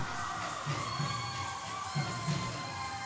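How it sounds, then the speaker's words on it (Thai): A crowd cheers at a U13-U14 youth basketball game in Thailand, a steady wash of shouting and cheering with a few louder swells, fairly loud throughout. "เรียกเสียงเชียร์จากกองเชียร์ได้ลั่นเลยครับ"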